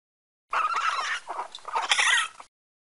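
A raccoon makes quick chittering, squeaky calls in two bursts, close and fairly clear against silence, with a short pause between them.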